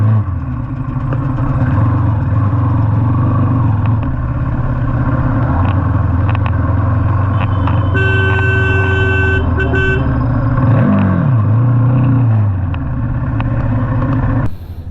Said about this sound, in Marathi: ट्रॅफिक पण आहे इकडे